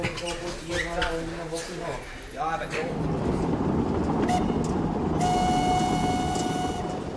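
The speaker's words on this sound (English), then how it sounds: "the Swiss have always enjoyed taking this old steam train to reach the Alpine slopes" An old Swiss mountain steam train climbing toward Alpine slopes: a steady, close rumbling chuff rises under a narrator's voice, then a sustained whistle tone sounds near the end.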